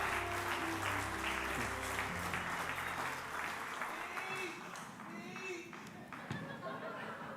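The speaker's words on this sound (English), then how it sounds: "thank you, everyone, for the gracious applause" Applause and cheering from a crowd at the U.S. Chess Hall of Fame induction ceremony, loud at first and gradually thinning out, with voices chattering underneath.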